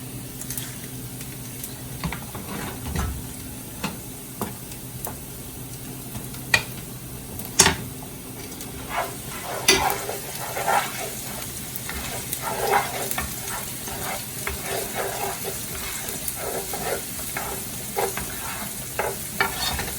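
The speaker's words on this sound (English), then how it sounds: "You don't want it to burn, so constantly stir." Linguine with clams being stirred steadily in a pan, a continuous scraping and sizzling texture with scattered clicks of the utensil against the metal, moderately close and without voices.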